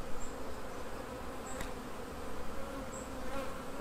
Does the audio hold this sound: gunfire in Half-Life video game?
no